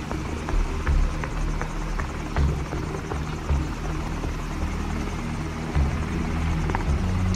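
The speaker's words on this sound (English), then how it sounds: "The heli's moving away." A helicopter in Call of Duty 4: Modern Warfare thuds with a steady chopping rotor beat over a low rumbling drone, moderately loud and continuous with no speech.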